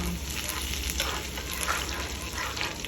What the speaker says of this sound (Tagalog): So, igisa na natin si bawang